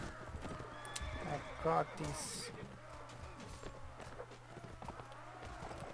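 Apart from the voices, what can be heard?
horses galloping in video game Mount & Blade Warband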